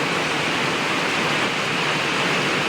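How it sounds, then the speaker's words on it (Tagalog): Heavy rain pours down steadily alongside rushing floodwater in a village, forming a loud, dense, unbroken roar with no pauses. "grabe ka ulan. Hala, kusog kayo ang tubig."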